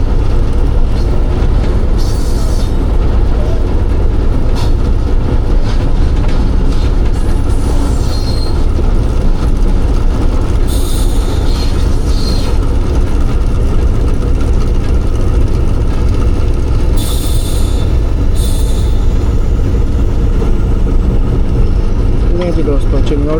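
A train arriving at Chiniot railway station rumbles loudly and continuously, its wheels squealing intermittently over the steady roar of the rail cars as it slows. People talk underneath.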